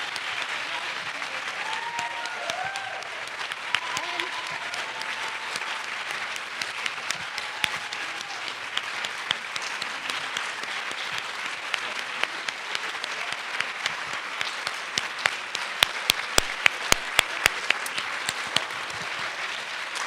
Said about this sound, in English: Could we please have a huge round of applause for all of our storytellers?